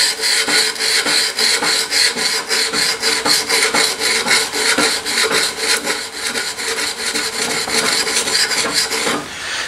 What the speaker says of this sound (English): we place the sandpaper on here and we scrub it back and forth